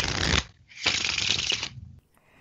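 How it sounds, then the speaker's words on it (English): Playing cards riffled in an imperfect everyday shuffle, heard close and alone as two bursts of crisp, rapid card flutter separated by a short gap, the second burst longer and slightly uneven. "But here's him doing an imperfect shuffle."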